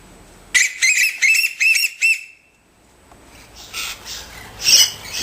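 Noisy miner birds squawking and calling at a bird bath while waiting their turn, a run of loud harsh repeated calls up close followed by quieter chatter and another sharp call near the end.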